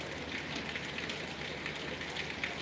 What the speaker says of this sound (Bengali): নোয়াখালী টাউনে অনেক বৃষ্টি রাস্তাঘাট ডুবে গেছে